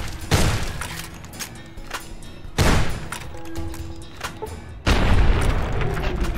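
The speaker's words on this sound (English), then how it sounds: "Maybe the shotgun isn't the best weapon right now." Shotgun blasts in the video game Fallout New Vegas, three loud booming shots a couple of seconds apart, each with a sharp crack and a rumbling decay.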